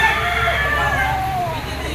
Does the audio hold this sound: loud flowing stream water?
no